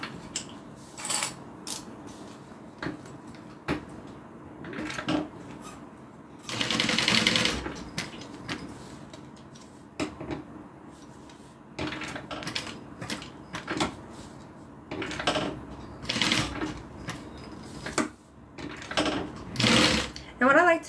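A domestic sewing machine stitches a fabric change purse in short whirring bursts of rapid clatter, stopping and starting between pauses, with one longer steady run; someone talks quietly in the gaps.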